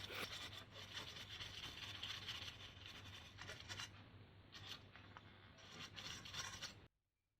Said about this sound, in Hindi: अब सारे डस्ट बॉक्स को ब्रश की मदद से साफ़ करेंगे, अच्छी तरह से साफ़ करेंगे।